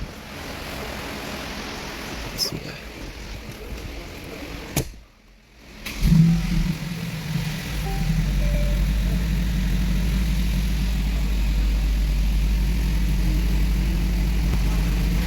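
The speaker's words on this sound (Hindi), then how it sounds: "चलते हैं दोस्तों गाड़ी को स्टार्ट करते हैं।" A Mercedes AMG G63 engine cranks and starts after a brief silence, then settles into a steady, deep idle rumble that continues evenly, close by with no talk.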